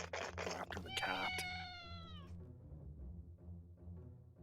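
A cat in the Mythical Mayhem video game gives one drawn-out, falling meow after a couple of short noisy bursts, close and clear over a low background hum.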